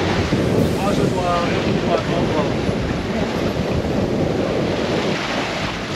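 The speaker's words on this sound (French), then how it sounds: "Et là on a pas mal de vent maintenant là." Strong wind roars steadily on the Pacific Ocean aboard a sailboat, a constant broadband rush with waves and water noise underneath, buffeting the microphone throughout.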